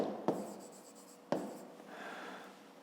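A maths answer is being written by hand: a pen taps sharply twice and then scratches across paper in short strokes, close and fairly quiet, with no talking.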